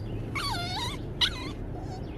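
A small female dog whines nearby in two high, wavering whimpers, the first longer and sliding downward, the second shorter, followed by a fainter trailing whine over low background hum.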